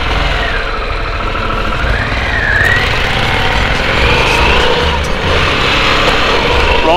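A 2021 Harley-Davidson Pan America motorcycle engine running loud and close while riding, a steady rumble with wind noise and a rising and falling whine as the revs change.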